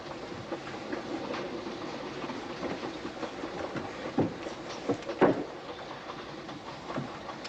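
A passenger train runs along the rails with a continuous rumbling roll and scattered clicks and clanks, steady and fairly close throughout.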